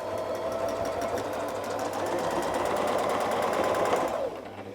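Domestic sewing machine quilting dahlia ruler work, a fast steady motor hum with rapid needle chatter, close and loud, running about four seconds before stopping.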